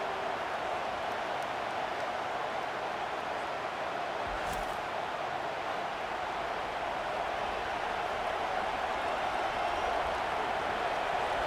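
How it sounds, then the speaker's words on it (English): Stadium crowd at a college football playoff game, UTSA Roadrunners on the field, roaring as a steady, dense wall of noise that holds loud and unbroken throughout with no clear individual voices. "This crowd, full throat, splitting the eardrums and letting them know it's going to be a long day."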